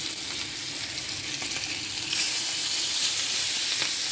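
Pieces of fish, cut into four, are slid into already hot oil for frying. A steady crackle becomes a loud, close, continuous sizzle about halfway through, with no talking.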